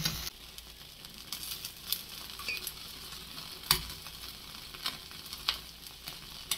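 Chicken kosha cooking in a pan hisses with a steady sizzle of frying, broken by the occasional scrape and tap of stirring, close and without talk.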